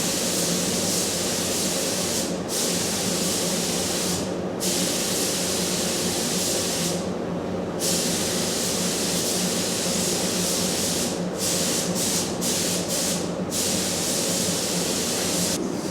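A spray gun hisses steadily and loudly while applying a second coat of coating to a custom twin-turbo van, with a few brief pauses between passes.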